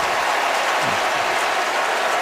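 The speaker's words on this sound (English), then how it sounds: "the crowd loves it" A stadium crowd at an NFL football game between the Saints and Cardinals roars and cheers loudly and steadily, a dense continuous wash of applause and voices.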